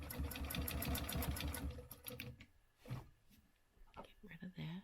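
A sewing machine stitches a quilted square in rapid, steady bursts for about two seconds, then stops; quieter handling clicks and soft rustles follow.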